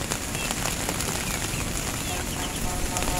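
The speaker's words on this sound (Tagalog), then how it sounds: "Dahil umuulan, ayan, maliligo tayo sa ulan." Steady rain falls outdoors during chili pepper planting, a dense, even hiss of drops pattering on surfaces throughout, close and fairly loud with no pauses.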